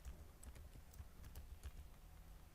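Faint, quiet keystrokes tap irregularly on a computer keyboard as code is typed, with no one talking.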